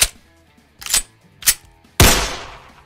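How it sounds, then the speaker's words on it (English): A 9mm pistol gunshot sound effect: three short sharp reports spaced about half a second apart, followed by a louder blast with a longer decaying tail, all dry and isolated. "Pistol sound effects, 9mm."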